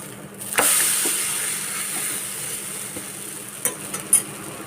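Idli batter bread toast, just flipped, fries on a hot pan: a soft, even sizzling hiss that runs throughout, with a few faint clicks and taps near the end.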